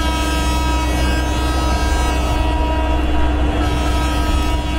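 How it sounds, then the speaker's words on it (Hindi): A WAG12 electric locomotive in the MSTS train simulator sounds its horn in one loud, sustained multi-tone blast lasting several seconds over a low rumbling hum. "हॉर्न बजा देते हैं एक बार"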